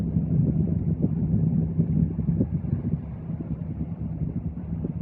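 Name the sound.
boat engines winding up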